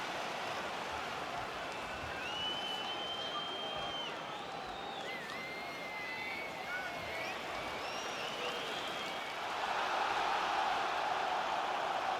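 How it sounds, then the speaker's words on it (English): Stadium crowd noise in the UFC 3 video game as a heavyweight fighter walks out to the octagon, a steady broad roar of cheering with whistles on top that swells louder near the end. "Nice pop from the crowd as this fighter makes his way to the UFC octagon."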